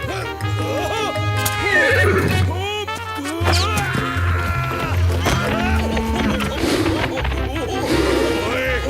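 Horses neigh and whinny loudly amid clattering hooves in a Zorro cartoon, with shouting voices and dramatic music running underneath throughout.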